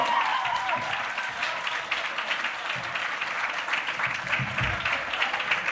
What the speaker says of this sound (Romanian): Aplauze pentru actori!